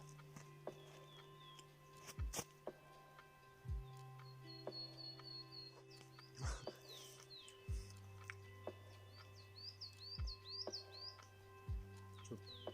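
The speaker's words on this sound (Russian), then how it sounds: "Птички поют." Birds sing and chirp in a Siberian forest, with short tweets and calls scattered over a faint steady background, fairly quiet and distant, with no talking.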